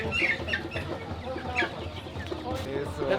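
Chickens and hens clucking at the Sonora market in Mexico City, a busy cluster of overlapping clucks and squawks close by, mixed with market chatter and voices.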